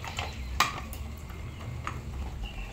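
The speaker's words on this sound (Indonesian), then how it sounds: "Ini lanjut aku cuci-cuci dulu parutan kelapanya sebelum aku gunakan nanti." A coconut grater being washed in a kitchen, with close clattering and scraping of metal and dishware, a sharper knock near the start and scattered light clinks over a steady low background.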